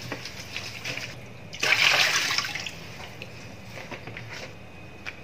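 Papaya pieces are rinsed under running water in a home kitchen, a brief, close burst of splashing and pouring water that settles into a soft trickle and faint clinks.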